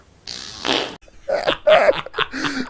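A fart gag in a Matrix parody, a loud blatting burst followed by a string of sputtering, voice-like fart noises that could be vocally imitated, close and alone with no talk.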